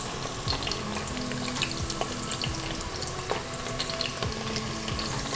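Onion and garlic fry in a pot for carnitas tacos, giving a steady close crackling sizzle with scattered pops and occasional scraping stirs throughout, and no voices.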